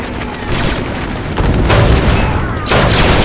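Demolition charge detonating in a Star Wars Republic Commando-style squad shooter, a loud sustained rumbling blast with surging booms and crackling debris, steady and heavy throughout with no clear voices.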